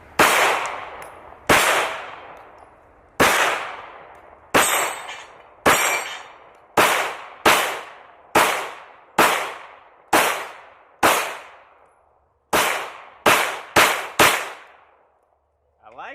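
Thirteen sharp 9mm handgun shots fired at targets, loud and close, each crack trailing into a short echo, spaced about a second apart and quickening into a faster cluster near the end, with no talking.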